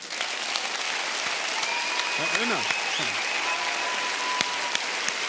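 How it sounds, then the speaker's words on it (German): Audience applause fills the hall at the Bambi award ceremony for integration, steady, dense clapping throughout, with a voice briefly speaking over it. "Das gibt's Applaus."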